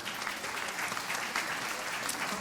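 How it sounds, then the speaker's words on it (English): Crowd applause at a city's State of the City address in Duluth, Georgia, a steady dense clapping that fills the hall for a couple of seconds without pause. "Everybody give him a round of applause."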